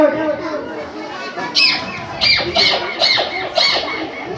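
A 6th-standard boy imitates a parrot with a series of sharp, high-pitched squawks and chirps, about five short bursts in quick succession, close and fairly loud with faint background chatter.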